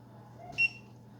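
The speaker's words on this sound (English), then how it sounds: "So I'll put the timer on for 1 minute." A kitchen timer gives one short, clear electronic beep as it is set during grape jelly canning, heard once over a low steady hum of a stove and boiling pot.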